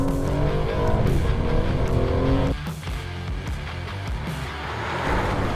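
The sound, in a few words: Aston Martin DB12 car driving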